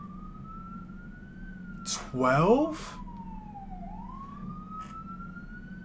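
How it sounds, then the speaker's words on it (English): Emergency vehicle sirens wail outside, a steady rising and falling tone heard faintly at a distance, with a brief burst of nearby speech cutting in partway through. "there's sirens outside. That is not a sound effect."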